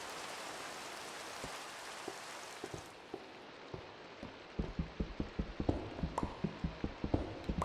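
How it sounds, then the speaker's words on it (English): Rain falling in Minecraft, a soft steady patter that grows into a dense run of quick, sharp droplet taps, close and fairly quiet, with no voices over it. "It's starting to rain."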